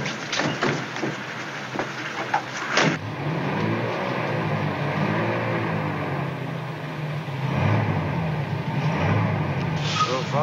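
Car engines idle and pull away in a 1930s Chicago-era street scene, a rumbling motor with a hiss and rising revs as vehicles move off together under a police escort.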